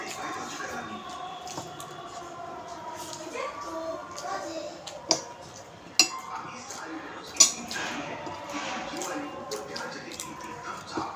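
Fried onion, onion stalks and potato are mashed by hand in a dish, with soft squishing and occasional sharp clinks of dishware. Quiet voices, including a child's, murmur underneath throughout.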